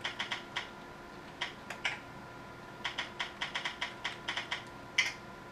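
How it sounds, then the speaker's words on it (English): Someone types on a keyboard connected to a Wii, giving quiet, close key clicks in short irregular bursts with small pauses and no talking. "I'm going to go ahead and enter a web address on my keyboard."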